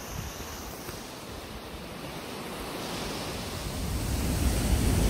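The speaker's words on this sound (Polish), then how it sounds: "Jesteśmy tutaj już pod samym wodospadem i no wrażenie jest ogromne. Jaka siła, ile tej wody tutaj jest." Icy winter waterfall in Iceland, heard as a broad, continuous roar of falling water that grows slightly louder toward the end, steady and dense with no other sounds on top.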